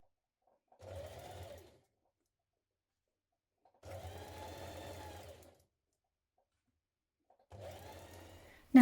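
A sewing machine stitches seam tape onto a T-shirt seam in three separate bursts of steady motor whirring, each about a second long with quiet pauses between, close and clear with no voices.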